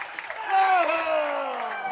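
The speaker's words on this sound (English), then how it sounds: "As the crowd on their feet" A baseball crowd on its feet cheering at Grider Stadium during a Tullahoma vs DeKalb County game, a broad roar with tonal shouts rising and holding, heard from the stands at moderate loudness.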